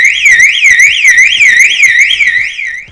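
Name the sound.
Ford Courier 2019 van alarm sounding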